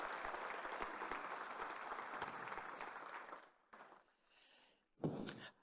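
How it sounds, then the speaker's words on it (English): An audience at a summit session breaks into loud, dense applause that holds steady for several seconds, then cuts off into quiet room noise with a soft hiss and a brief bump near the end. "Please let's give him a round of applause."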